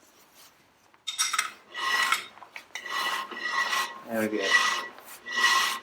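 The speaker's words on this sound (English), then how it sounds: "So we can hear that the brake shoes are touching the drum" Brake shoes scraping against the drum on a Ferguson TED20 tractor as the drum turns, a series of rasping, rubbing strokes up close, with a brief remark spoken between them.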